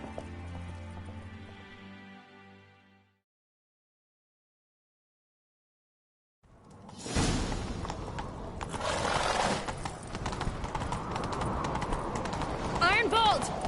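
Horse hooves clatter at a gallop in The Witcher 3 video game, a fast rhythmic pounding that starts after a silent gap and continues loud and close with music and voices over it.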